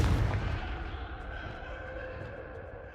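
Confringo blasting spell cast in the Hogwarts Legacy video game, a dense booming blast up front that rumbles and tails off over about three seconds, with a brief fresh hit at the very end.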